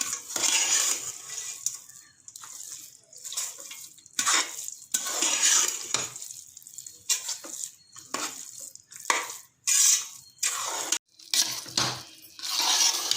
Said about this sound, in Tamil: எல்லாத்தையும் ஆட் பண்ணதுக்கப்புறம் பொங்கல் நல்லா கிளறி விட்டுக்கலாம்.